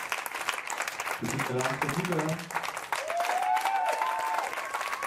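A church congregation applauds and cheers to acclaim God, a steady broadband clatter of clapping running throughout, with voices and a sung or spoken line rising over it midway.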